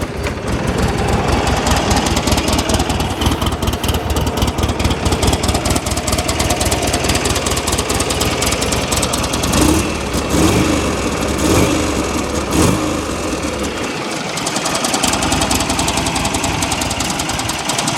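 A 2006 Buell Ulysses XB12X V-twin motorcycle engine fires up and settles into a loud, steady, close-up idle with a lumpy rhythmic pulse, a brief dip near the end before it picks back up.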